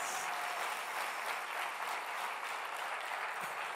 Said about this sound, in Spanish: Ahora sí aplaudí al Señor con ganas y con fuerzas.